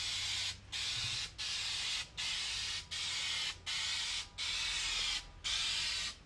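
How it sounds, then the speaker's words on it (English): Clear coat is sprayed from an aerosol can onto a restored car headlight. Seven loud, hissing bursts follow one another in a steady rhythm, each broken by a short silent gap. "I'm gonna do the clear coat now"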